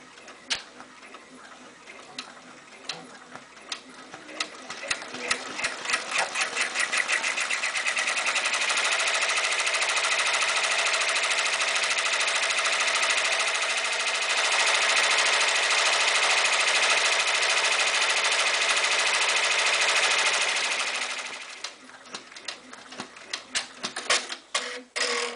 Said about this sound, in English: We are going to let this go ahead and stitch the monogram